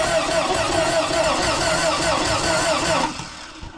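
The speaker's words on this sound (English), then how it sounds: "Well, the starter does turn over" Starter motor cranking the engine of a Volkswagen Vanagon, a loud, steady whirring drone close by that holds for about three seconds and then drops off.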